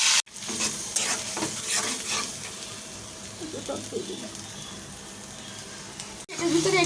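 Spice paste of dried chilli powder, ground cumin, coriander, ginger, garlic and onion frying in hot oil for egg korma, with a steady close sizzle, stirring scrapes throughout and a few brief clatters near the start.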